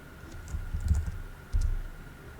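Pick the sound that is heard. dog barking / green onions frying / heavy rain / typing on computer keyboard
typing on computer keyboard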